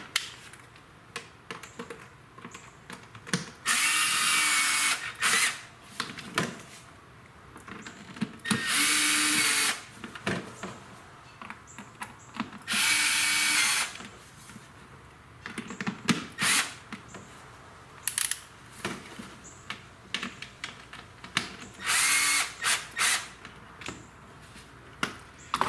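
A power drill drives screws back into a Mercedes ML / GLE air filter housing in several loud, separate whirring bursts. Short clicks and handling noises fill the gaps between them.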